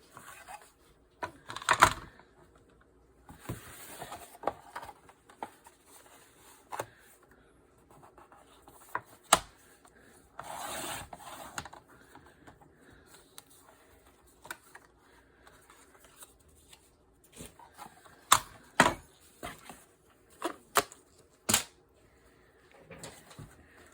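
Paper cover stock for a fabric-printed journal is cut down to size, heard as scattered short snips and cutting scrapes with soft handling rustles in a quiet room.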